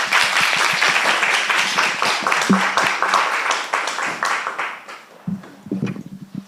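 Audience applause greeting CEO Shin Won-cheol at a consumer meeting on eco household goods, a dense burst of many hands clapping that thins out near the end into scattered claps.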